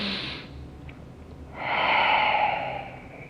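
A deep, drawn-out inhale during a Pilates breathing exercise, rising as a steady breathy rush after a short pause and holding for over a second, close and alone.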